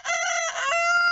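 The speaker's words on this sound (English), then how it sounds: "This is the one there's the White Sussex Roosters" A White Sussex rooster crows once, close and loud, a long sustained call alone with no other sounds.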